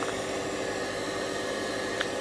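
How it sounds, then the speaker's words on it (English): A boat's running generator, heard mainly through its cooling fans, gives a steady, loud, broadband rushing of air that stays constant throughout. "So this is the sound of the generator running,"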